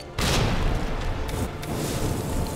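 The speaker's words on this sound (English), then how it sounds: "Spam the grenades!" Grenades go off in Resident Evil 2 as one deep boom opens a run of rumbling blasts and thuds, loud and close, with faint cracks layered over them.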